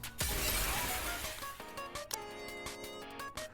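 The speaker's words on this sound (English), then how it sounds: "a window next to us shatters" A window shatters in the video game Nikke with a sudden loud, bright crash of breaking glass. Scattered clinks and tinkles follow over a layer of game music.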